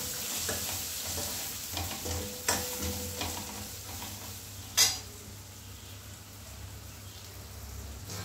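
Asafoetida, coriander powder and red chilli powder are stirred in a pan for Gujarati dal. A soft continuous sizzle runs under scraping strokes, with two sharp utensil clinks against the pan.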